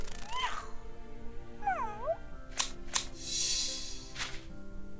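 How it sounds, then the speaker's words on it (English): Kittens in a hidden-object puzzle game meow in short rising and falling mews, a couple of clear cries up close, followed by a few sharp chimes and a brief magical shimmer. "but we've got kittens in this game."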